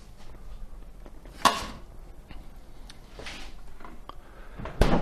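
A cutting board is set back down among dishes, giving two sharp knocking clatters, one early and one at the end, with faint kitchen rattles between them and no talk.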